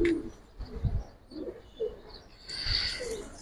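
A Giribaz pigeon coos in several short, soft bursts close by, with a brief brighter rustle near the end and no speech.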